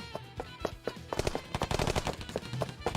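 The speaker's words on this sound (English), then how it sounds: "I heard yelling and gunfire behind" Gunfire effects in the video game Piofiore: Fated Memories, as a quick run of sharp shots and cracks that grows denser and louder over a few seconds, with no voices.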